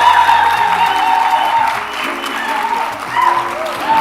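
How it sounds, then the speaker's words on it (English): A conference audience applauds loudly as a speaker walks to the stage, a dense, continuous clapping that dips slightly in the middle and swells again near the end, with faint voices underneath. "Please do not stop clapping until she gets to the stage"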